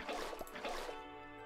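A bucket of water poured in Minecraft, a short splashy gurgle with a few bubbly drips over about a second, fading into a faint tonal hum; no talking.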